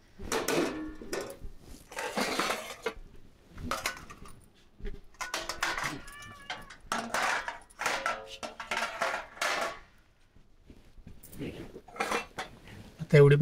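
Metal dishes and pots clink and clatter in scattered bursts, some sharp and ringing, between quieter gaps, with voices talking intermittently.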